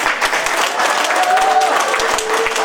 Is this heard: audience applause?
yes